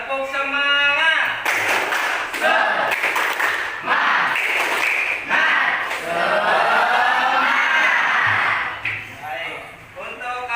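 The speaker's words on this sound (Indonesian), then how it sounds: "Tepuk semangat." Classroom of children doing a rhythmic spirit clap, loud crowded claps in quick patterned bursts with shouted chanting voices mixed in throughout.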